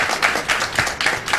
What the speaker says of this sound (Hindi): ताली मत बजा।